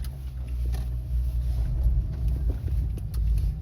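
Low, steady engine rumble and road noise from inside the Słubfurt post office car as it drives along, continuous and fairly loud.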